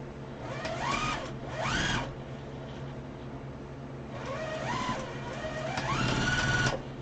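Domestic sewing machine running a quarter-inch quilt seam in two bursts, its whirring motor rising and falling in pitch as the speed changes, steady mechanical hum between runs.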